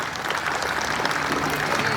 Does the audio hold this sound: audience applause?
yes